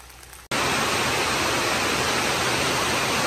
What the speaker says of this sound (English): Rain won't let up, so we're going to do stuff in the rain.